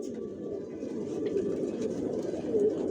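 Racing pigeons coo continuously nearby, a soft low murmuring burble from several birds overlapping with no pauses.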